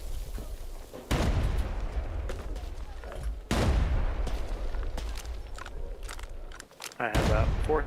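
Gunfire in the tactical shooter Arena Breakout: Infinite, with two loud, abrupt blasts and sharp shots cutting through a steady rumble of battle, while players talk over the action.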